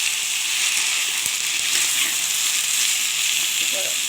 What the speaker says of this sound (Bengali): আমি তুলে দেবো বাঁধাকপিটা ভালো করে কষিয়ে নেবো